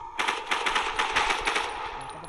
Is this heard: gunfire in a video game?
yes